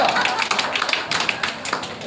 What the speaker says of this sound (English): And with each product, when the product comes out, clap!